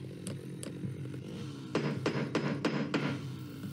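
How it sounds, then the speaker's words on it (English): A hammer nails planks over a door in the horror game Green Mirror: two light taps, then a quick series of five or six firm, close blows. "cover the door with planks, nail them shut with the hammer."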